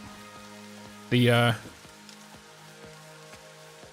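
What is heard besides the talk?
rain in the video game Satisfactory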